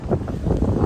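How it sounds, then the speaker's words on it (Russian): Hot wind gusting across a Red Sea beach at Sharm El Sheikh's Sharks Bay, heard as a steady, close buffeting rush of wind against the microphone with no talk. "У нас сегодня ветер"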